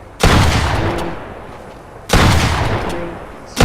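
Pump shotgun fire in a video game: two loud, booming blasts about two seconds apart, each with a long decaying tail, and the onset of a third right at the end.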